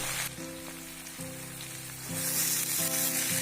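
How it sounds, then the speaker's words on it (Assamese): Steady sizzling of pigeon meat and banana flower frying with spices in a pan, with occasional scraping clatter as it is stirred; close and continuous, growing louder toward the end. "কিছু সময় এইদৰে লৰাই লৰাই ভাজি থাকিব"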